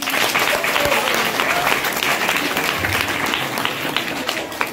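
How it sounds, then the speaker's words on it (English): Schoolchildren at a Don Bosco High School talent show clap together in a sustained burst of applause, a dense, even patter of many hands that holds steady for several seconds. "Clap hands for her."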